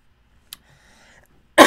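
Near silence with a faint click, then a single sharp cough bursts out at the very end.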